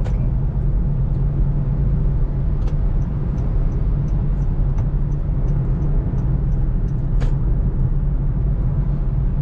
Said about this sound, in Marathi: बऱ्यापैकी ट्रॅफिक आहे रे.